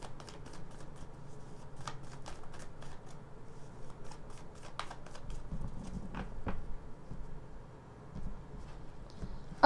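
Tarot cards are shuffled in a steady run of soft, papery riffles and flicks for nearly ten seconds, fairly quiet, with no talking.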